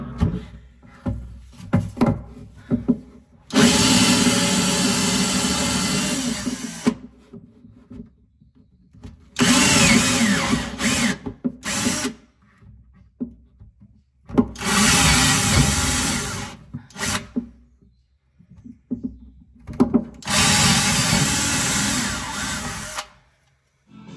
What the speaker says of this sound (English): so get them all drilled